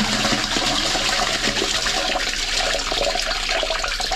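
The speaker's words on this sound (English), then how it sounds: "now they're flushing downstairs" A toilet flushes in a house with a blocked drain, a loud steady rush of water filling the whole moment, heard close and alone without talk.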